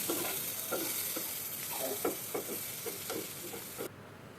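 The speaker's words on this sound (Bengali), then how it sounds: "ধনিয়া পাতা দিয়ে জাস্ট একটু নেড়েই নামিয়ে নিতে হবে।" Coriander leaves being stirred into a frying vegetable mash in a pan, with a steady sizzle and a series of scraping stirs at an irregular rhythm, close by and fairly loud before cutting off abruptly.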